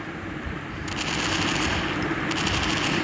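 Rapid automatic gunfire from a gun in the horror video game Mother Bird, a dense, continuous rattle that holds loud and steady throughout.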